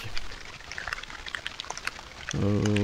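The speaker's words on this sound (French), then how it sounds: "on entend qu'il pleut, il pleut très fort" Heavy rain pours steadily at dusk in misty woodland, a dense hiss of drops pattering on surfaces at moderate distance, with a short burst of voice breaking in near the end.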